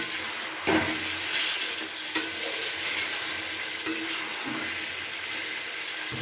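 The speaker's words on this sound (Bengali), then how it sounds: "আমি এখানে মটরশুঁটি অ্যাড করে দিলাম। সমস্ত কিছু এবারে একসাথে মিশিয়ে নিচ্ছি।" Cauliflower curry with peas frying in a pan, being stirred and mixed together with spices: a steady close sizzle runs throughout, broken by a few sharp scrapes and knocks of the spoon against the pan, with no talking.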